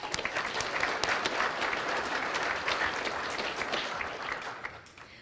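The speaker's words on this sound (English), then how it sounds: "Let's give them a round of applause." An audience at a probation officer academy graduation applauds the staff development unit: steady, dense clapping from a sizable crowd, somewhat distant, holding level before tapering off at the end.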